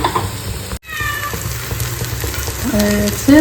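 Lentil fritters (dal bora) frying in hot oil in a home kitchen, a steady close sizzle with a brief break, joined near the end by a cat meowing loudly.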